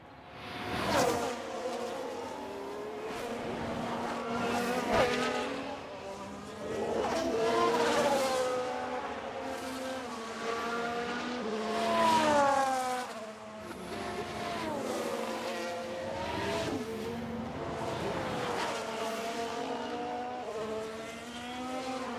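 F1 Manager 2022 race cars on the warm-up lap give a continuous, rising and falling high-pitched engine whine, with several cars sweeping past in overlapping waves at steady loudness.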